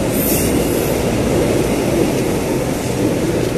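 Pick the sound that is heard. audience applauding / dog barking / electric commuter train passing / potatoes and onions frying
electric commuter train passing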